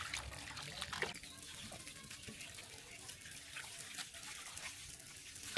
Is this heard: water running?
yes